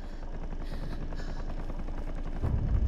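A helicopter in the video game Fear the Spotlight thrums steadily with rapid rotor chop and engine drone, loud and continuous, growing slightly heavier toward the end.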